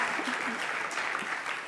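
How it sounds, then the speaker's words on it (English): Audience at a mayors' luncheon applauds, a soft, fairly distant wash of clapping that continues evenly throughout. "That's an applause line."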